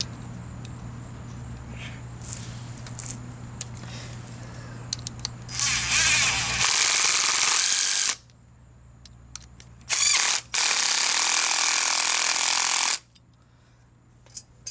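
Power tool driving bolts into the metal strap that holds a U-joint in a driveshaft yoke, two loud bursts of whirring drill noise separated by brief pauses, over a low steady hum.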